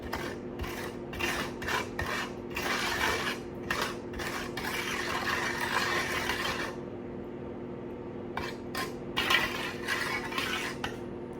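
Chicken tocino marinade stirred with water in a bowl, bursts of rubbing, scraping strokes close by with short pauses between them, no talking.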